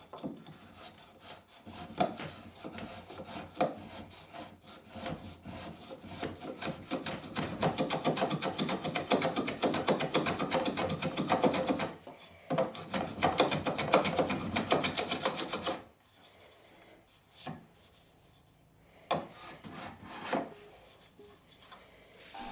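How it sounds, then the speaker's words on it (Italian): Close, steady rasping and scraping on wood in long strokes as a wooden peg is trimmed flush on a handmade plane, pausing briefly and then resuming before fading into a few scattered scrapes. "andiamo a pareggiare il piolo che terrà il bloccacuneo"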